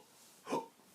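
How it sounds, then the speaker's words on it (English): A singing teacher demonstrates a hiccup with her voice, one short, soft, breathy catch of sound in an otherwise quiet moment. "Then you got the hiccup. If I do the hiccup,"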